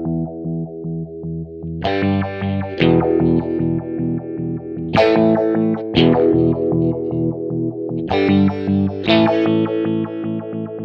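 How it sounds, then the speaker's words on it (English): An Electro-Harmonix Stereo Polyphase analog optical phase shifter in square wave mode processes sustained electric guitar chords, with the phasing jumping abruptly between two states in a regular stepped pulse, loud and continuous. "now I will let you hear the square wave mode"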